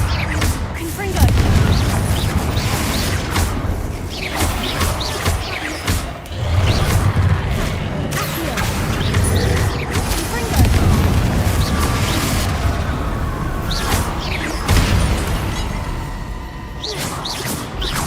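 Repeated Confringo blasting-spell explosions in the Hogwarts Legacy video game, a string of booming bursts and crashes one after another over several seconds, loud and close, mixed with game sound.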